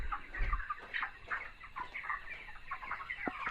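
Broiler chickens, 28 days old, cluck and chatter continuously inside a poultry farm shed, a soft crowd of overlapping calls with occasional sharper squawks.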